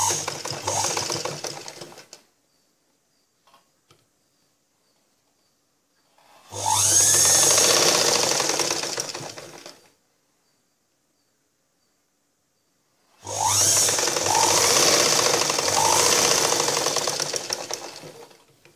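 Sewing machine stitching blouse fabric, running in two long, loud bursts of several seconds each, preceded by the end of an earlier run, with quiet gaps between and no talk.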